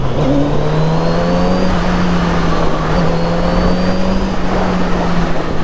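A Kawasaki Z900RS naked motorcycle with a 948cc engine pulls hard under acceleration, its steady loud drone rising slightly in pitch against heavy wind noise, with no voices.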